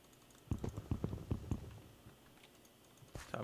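Rapid clicking while playing modded Minecraft, a quick run of sharp, close clicks lasting about a second, then a pause and a couple of faint taps and a final click. The clicks are quiet and come alone, with no voice over them.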